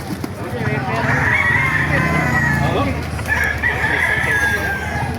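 Roosters crow at a chicken market in Baliuag, Bulacan. Two drawn-out crows stand over constant crowd chatter and clucking.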